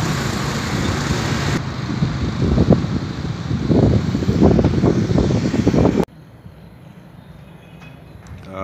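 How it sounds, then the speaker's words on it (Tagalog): Loud roaring engine noise mixed with wind buffeting rises and swells for several seconds, then drops abruptly to a quieter rumble as a C-130 aircraft takes off from the runway at Virac, Catanduanes. "paglipad nitong aeroplano dito sa runway ng Virac, Catanduanes"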